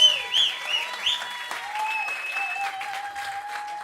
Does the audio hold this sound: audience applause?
yes